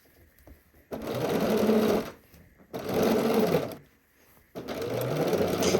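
A sewing machine stitches a Haskell shirt over gathered fabric in three close, even runs with short pauses between them, near and alone.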